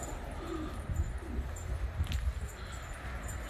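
Pigeons coo softly in low, throaty murmurs in a loft during rain, several overlapping calls, against a steady background hiss.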